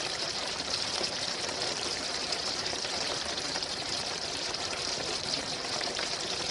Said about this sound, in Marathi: त्या आपण तळून घेऊया. कढईत तेल गरम झालेलं आहे.